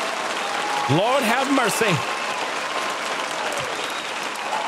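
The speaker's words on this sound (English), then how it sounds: "just a round of applause for this" A short burst of clapping rises over a podcast studio's background for a couple of seconds, mixed with a man's exclamation, then fades back to quiet room noise.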